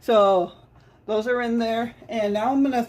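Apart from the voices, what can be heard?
No everyday noise stands out behind the speech.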